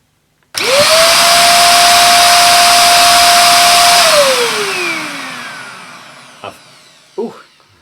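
A Goblin corded stick vacuum cleaner switches on with a sharp whine, runs loudly and steadily, then winds down as its motor pitch drops, followed by a couple of clicks.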